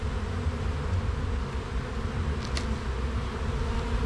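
Honeybees hum in a dense, steady drone close at hand at an open hive being inspected, a continuous low buzz with no voices.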